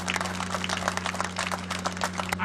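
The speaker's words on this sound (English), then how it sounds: "So a round of applause" Scattered, distinct hand claps from a modest audience at a historic race track reunion honoring the St. Louis Auto Racing Fan Club, individual claps audible over a steady low electrical hum.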